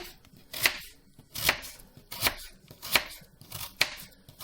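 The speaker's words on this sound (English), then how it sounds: "You can actually put it on your chopping board and try to slice as thinly as possible." A knife thinly slicing vegetables on a chopping board, five crisp, evenly spaced cuts close up with quiet pauses between, no talking.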